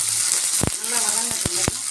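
Green chillies and garlic sautéing in a pan for coriander chutney: a bright, close hiss of frying with a few sharp spatula knocks near the end.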